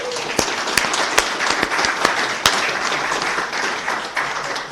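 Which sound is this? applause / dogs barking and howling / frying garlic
applause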